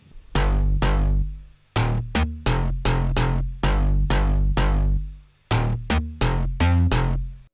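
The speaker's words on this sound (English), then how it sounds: "Mid basses with the sub bass sounds like this." Thick mid bass stacked on deep sub bass in a house track, punching in loud, close chopped stabs with short gaps, rhythmic and dense without any voices.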